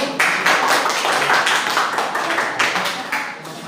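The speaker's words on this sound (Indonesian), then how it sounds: "Beri tepuk tangan untuk kelompok 1." A small group claps in brief, uneven bursts, a few seconds of light applause in a room.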